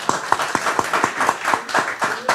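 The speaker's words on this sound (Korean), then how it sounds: "박수 한번 칩시다" An audience at a 2022 Asia Forum 21 journalists' workshop claps together in a steady, quick rhythm, the sharp evenly spaced hand strikes close and fairly loud with no voices over them.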